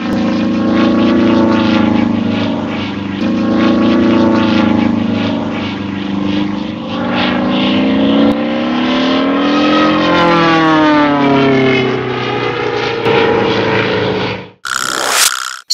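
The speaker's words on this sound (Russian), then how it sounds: "Биплан – это самолет с двумя плоскостями" A biplane's propeller engine drones loudly and steadily, its pitch slowly rising and falling as it passes close by, ending in a sudden cut.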